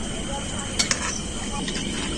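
Chicken pakora fries in a pan of hot oil, a steady broad sizzle running throughout, with a couple of brief metallic clinks of utensils against the pan.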